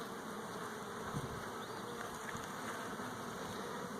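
Honey bees at a hive buzz in a low, continuous drone, faint and steady, with a few individual bees passing close.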